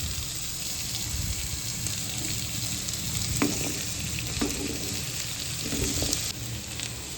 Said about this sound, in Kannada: ಇನ್ನೊಂದು ಬಾಣಲಿಗೆ ಸ್ವಲ್ಪ ಎಣ್ಣೆ ಮತ್ತು ಮೂಲಂಗಿ ಹಾಕ್ಕೋಬೇಕು.